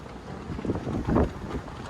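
Outdoor wind buffets the microphone in a low, rumbling roar that swells and fades over two seconds.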